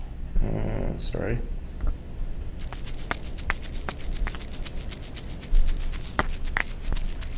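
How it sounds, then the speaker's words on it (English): A sampled Ghanaian shaker plays a steady, crisp rattling pattern of short bright shakes. A brief murmur and a short spoken word come before it starts. "So this is like a Ghanaian instrument. It's like a shaker."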